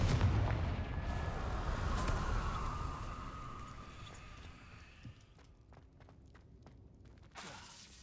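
Confringo fire-blast spell explosions in the Hogwarts Legacy video game, a loud booming burst at the start that rumbles and fades, followed by scattered softer impacts and footsteps.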